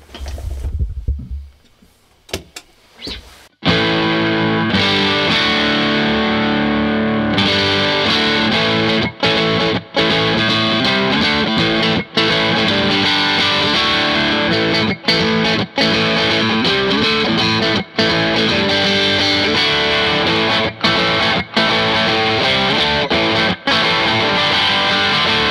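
A Fender American Professional II Telecaster plays through light overdrive, starting with a few quiet picked notes and then loud, sustained distorted chords with brief breaks between them. No one talks.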